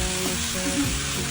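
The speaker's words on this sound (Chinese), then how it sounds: "先把鱼骨煎掉个鱼汤" Fish bones fry in rendered pork lard in a pan, giving a steady, close crackling sizzle that holds at an even level throughout, with no voices.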